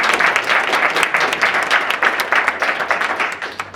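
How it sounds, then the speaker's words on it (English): Audience at a Lunch and Learn session applauding Carolyn: dense, sustained clapping from a room full of people, steady and fairly loud throughout with no one speaking over it. "join me in giving a hand of applause for Carolyn for working so hard on this"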